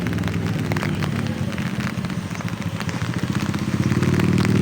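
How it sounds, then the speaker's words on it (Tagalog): Heavy rain falls at an outdoor sports complex as a steady, dense wash of hiss that grows slightly louder toward the end, with no voices heard. "Maulan ngayon, oh."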